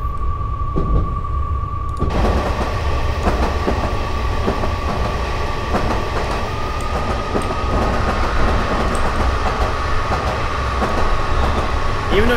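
A London Underground Metropolitan Line train runs steadily on the Amersham to Harrow route in Train Simulator 2018, its continuous rumble carrying a sustained motor whine, a steady tone and rhythmic clicks from the rails throughout.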